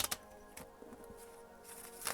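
A deck of cards, likely tarot cards, is shuffled before a reading: a run of soft, papery riffles and flicks with a couple of sharper snaps, close and fairly quiet.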